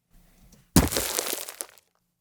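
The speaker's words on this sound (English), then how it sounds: "And finally, some impact of the ATV on dirt." An ATV lands on dirt with a sharp crunching impact, followed by about a second of scattering, gritty debris that fades out, heard alone and up close.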